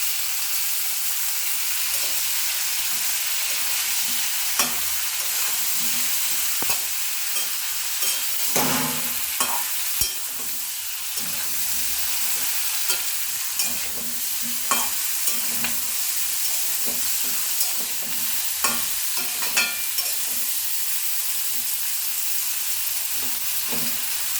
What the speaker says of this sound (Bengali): আর পুঁই শাক। ভালো করে নাড়িয়ে নিই।